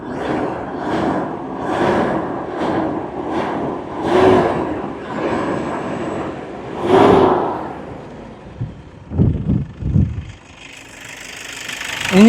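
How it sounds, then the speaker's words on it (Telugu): Toyota Innova engine idling with a steady mid-pitched hum, then several short, loud revs near the end. "ఫ్రెండ్స్, వెహికల్ ఇంజిన్ రేస్ చేస్తాను చూడండి"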